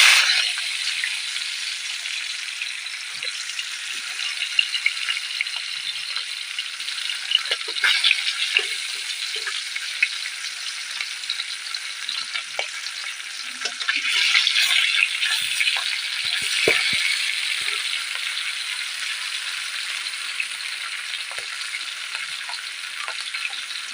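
Fish fries in hot oil in a wok, a sustained bright crackling sizzle with scattered sharp pops and spatters that swell and ease over time, heard close with no talk.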